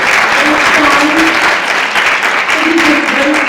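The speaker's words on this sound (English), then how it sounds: "let's give Sean a big round of applause" An audience breaks into a sustained round of applause for a presenter at a realtor training session, with dense, steady clapping throughout and faint voices mixed in.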